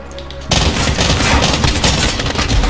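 Loud, continuous bursts of rapid gunfire from the Call of Duty Modern Warfare video game on Xbox One X erupt suddenly after a quiet moment and keep hammering densely without a break.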